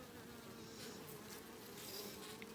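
Honey bees swarm around a brood frame lifted from a hive, a faint steady buzzing drone with scattered individual bees passing closer to the mic.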